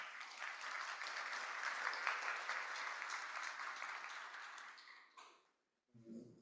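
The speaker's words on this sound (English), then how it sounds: "Please give yourselves a round of applause." Applause from the audience at a democracy summit in Dayton, a broad sustained clapping that holds steady for several seconds, thins out and stops, followed by a brief sound after a short silence.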